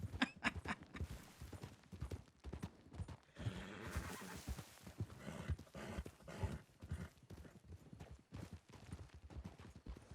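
A horse whinnies loudly while hooves clip-clop in a steady, close rhythm in an Old West lawman series, without any speech.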